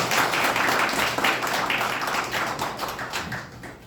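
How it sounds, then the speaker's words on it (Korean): A crowd applauds at a press conference in Jeju for a political candidate, with steady, dense clapping throughout that thins slightly toward the end. "큰 박수 부탁드리겠습니다"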